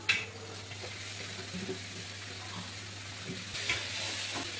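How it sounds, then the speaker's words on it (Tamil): Soft, steady sizzling of onions and tomatoes sautéing in a pan, quiet and continuous, with an occasional light scrape of stirring and no talking. "வெங்காயம் வதங்கிருச்சு, தக்காளி போட்டுக்கலாம். நல்லா வதக்கணும்."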